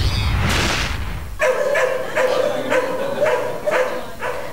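Stray dogs caught by barangay workers in Pasong Tamo, Quezon City give a series of close, repeated yelping barks at a steady rhythm, after a brief burst of noise at the start.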